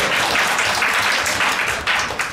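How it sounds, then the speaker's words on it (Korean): An audience applauds at a lecture event on abolishing the disability grading system, a dense, steady patter of clapping holding at an even level throughout. "그리고 좀 박수 좀 쳐주세요."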